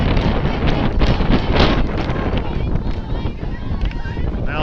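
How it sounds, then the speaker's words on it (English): Steady wind gusting across an outdoor soccer field during a tournament championship match, a loud broadband roar buffeting the microphone continuously, with a voice faintly underneath. "Now the wind is picking up a little bit."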